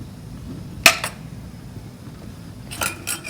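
A metal spoon loads spiced stuffing into samosa pastry, giving a few sharp, close clinks and taps against a bowl, two near the start and two more near the end, over a quiet kitchen background.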